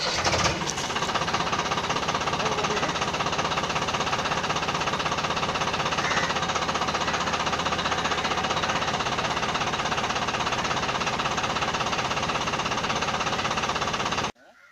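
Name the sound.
Escorts FT 6050 4WD tractor engine started and running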